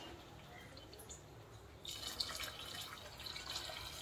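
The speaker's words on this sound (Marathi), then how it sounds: "आता आपण टाकूया याच्यात गरम पाणी." Hot water poured into a pan of chickpea and potato curry, a faint trickling and splashing that swells after a quiet start and runs steadily to the end.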